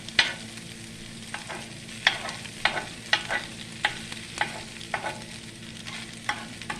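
Hash browns frying in a pan on medium heat, a continuous close sizzle broken by repeated sharp scraping and stirring strokes of a utensil at a quick, irregular rhythm, with no talking.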